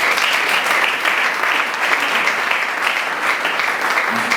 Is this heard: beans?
no